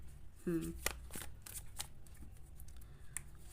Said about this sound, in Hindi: कार्ड्स बहुत ज़्यादा जंप हो रहे हैं।